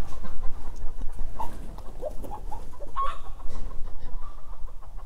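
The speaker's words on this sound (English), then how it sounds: "These chickens are freaking out." Agitated chickens on an off-grid homestead cluck and squawk in irregular bursts, with a few sharper calls standing out against a steady outdoor background; no one speaks.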